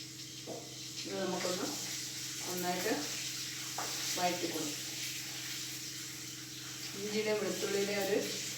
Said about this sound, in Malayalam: ഇനി ഞാൻ കടുകിടാറില്ല വെളുത്തുള്ളിയും ഇഞ്ചി ഇട്ട് കൊടുക്കാം